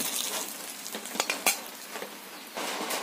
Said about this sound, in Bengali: মাছগুলো একটু কড়া করেই ভাজবো।